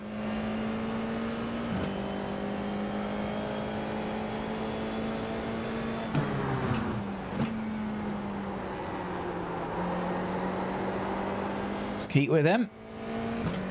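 Racing cars in a video game race drone steadily throughout, a sustained engine tone shifting pitch as gears change, with a brief burst of revving near the end, all under continuous commentary from someone speaking.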